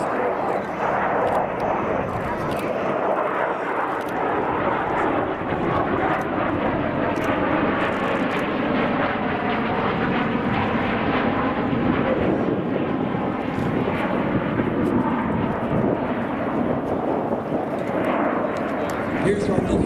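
U-2 reconnaissance aircraft flying at the Beale Air Force Base airshow, a sustained loud roaring engine drone filling the whole stretch outdoors, with crowd and announcer noise blended underneath.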